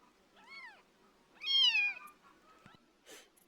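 A cat meows quietly and nearby, a short mew followed by a longer, louder rising-and-falling meow, then a soft rustle, with no voices.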